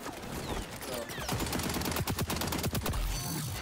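Bursts of automatic gunfire in the shooter game XDefiant, rapid sharp cracks clustered in quick volleys, loud and close with game sounds around them and no talking.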